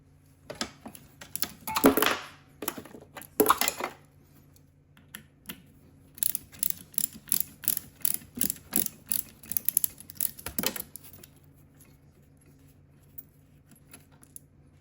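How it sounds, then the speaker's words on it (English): Bolts are unscrewed from the gearbox of a GE Opal 2.0 nugget ice maker during a teardown, giving quick runs of small metallic clicks and ratcheting taps in bursts with pauses, close and fairly quiet. "start unscrewing the bolts that are holding the gearbox together"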